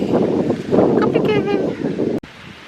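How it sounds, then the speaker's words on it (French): Strong wind roars and buffets the microphone in a steady, heavy rumble, with a faint voice partly buried beneath it. "Il y a beaucoup de vent donc c'est compliqué."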